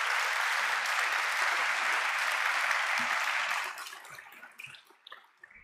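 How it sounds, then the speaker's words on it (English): Conference closing-session audience applauding its sponsors: steady, dense clapping from a crowd that holds for several seconds, then thins out into scattered individual claps and fades. "please, a round of applause and recognition for our sponsors"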